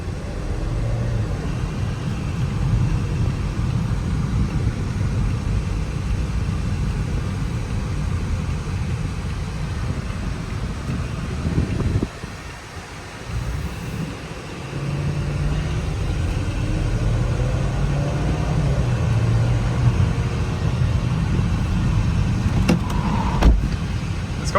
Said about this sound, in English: it's a turbocharged 4-cylinder, so not surprised, but yeah, I mean, transmission responds pretty well too